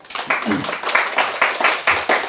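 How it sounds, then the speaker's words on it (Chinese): An audience claps together in a hall, a brief burst of brisk, uneven hand claps heard up close. "一样再给自己鼓掌一下"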